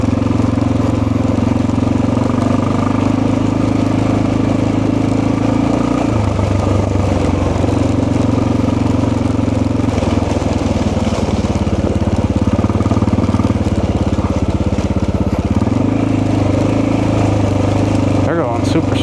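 Motorcycle engine running steadily after a Dynojet kit install, a continuous loud low drone with wind rush while riding, shifting in pitch as it passes slower riders on the road.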